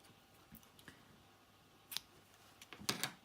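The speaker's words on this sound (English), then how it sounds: "I'm going to cut the end of this yarn" Scissors snip through the end of a strand of yellow crochet yarn, a few sharp, close clicks scattered over quiet, with a quick double cut at the end.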